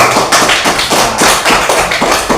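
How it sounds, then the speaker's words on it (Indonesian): A classroom group in a Catholic religious teacher-training class applauds the presenting groups, with steady, close rhythmic clapping that sounds like a few pairs of hands beating together, lasting a couple of seconds with no talk. "Kita beri tepuk tangan untuk kita semua"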